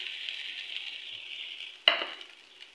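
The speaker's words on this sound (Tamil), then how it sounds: "இப்போ நம்ம இந்த அவல் இதில் போட்டுக்கலாம்" Flattened rice (aval) is tipped into a pan of sautéed onions, chilies and curry leaves, giving a soft steady sizzle and then a sharp scrape or clatter as it is stirred, all fairly faint with no voices.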